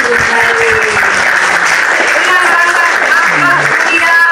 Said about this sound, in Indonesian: tepuk tangan buat Encuk yang udah berdiskusi